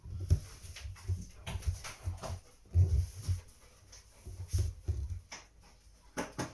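A dog panting and whimpering nearby indoors, with a series of uneven short breathy bursts and soft low whines scattered across several seconds, fairly faint.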